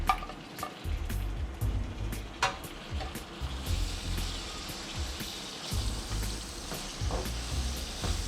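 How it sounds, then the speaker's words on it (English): Chopped tomatoes going into onions frying in a pan, a continuous close sizzle with scraping stir strokes and bursts of spitting oil, with no talking. "Okay, now I'm adding the tomatoes in it."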